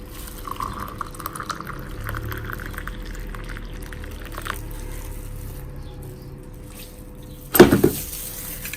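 Boiling water is poured into a cup over thyme for tea: a quiet, faint trickle gives way near the end to a short, louder splashing pour, with no speech.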